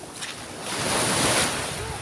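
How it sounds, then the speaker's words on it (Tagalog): Waves wash and roll against the shore while wind blows steadily across the microphone, swelling louder toward the middle before easing slightly. "Gala tayo sa dagat."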